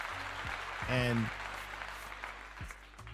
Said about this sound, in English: Let's give TRACEY EDMONDS another clap